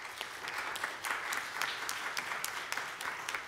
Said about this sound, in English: So we can give a round of applause.